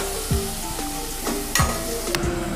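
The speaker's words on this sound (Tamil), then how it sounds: "வெங்காயம் ஃப்ரை பண்ணுறோம் பார்த்திங்களா" Onions fry in hot oil with a pinch of salt, a close steady sizzle broken by a few sharp stirring scrapes and clatters, with no talking.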